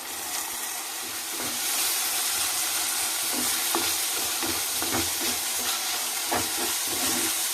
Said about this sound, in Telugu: ఇవి బాగా వేపుకుందాం